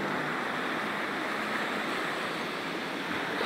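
Sea waves wash continuously on a beach, a steady broad hiss of surf at moderate distance, with some wind noise and no voices.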